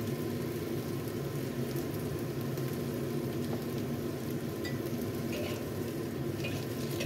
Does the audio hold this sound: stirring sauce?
yes